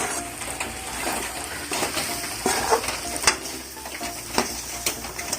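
Chicken frying in a pan as masala and pepper powder are stirred through it, giving steady sizzling with scraping and stirring clatter spread across the whole stretch, a few sharper utensil knocks, and no talking.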